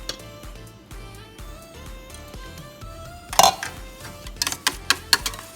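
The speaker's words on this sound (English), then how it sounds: "Just gonna whisk it" Scalloped potato sauce whisked in a bowl, a steady rhythmic ticking and clinking of the whisk against the bowl, close and moderately loud, with a few sharper clanks near the end.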